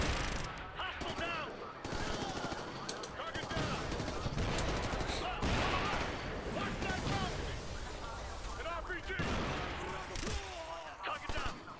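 Rapid automatic gunfire in the Ghost Recon: Future Soldier shooter game, dense bursts of shots crackling almost continuously across the whole stretch, with someone talking over the firefight.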